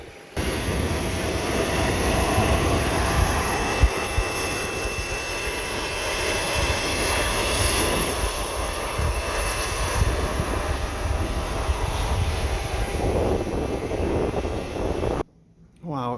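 Jet engines of a Learjet 45 roar steadily as the jet departs, a loud sustained whine and rumble holding for about fifteen seconds before cutting off abruptly.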